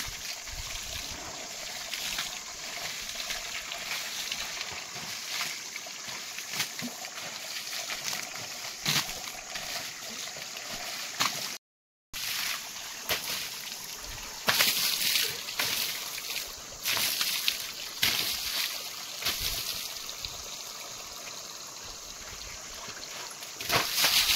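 Running water trickles and splashes steadily near a cowshed during washing up, a continuous broadband wash with brief sloshing bursts and a short dropout midway, no talk over it.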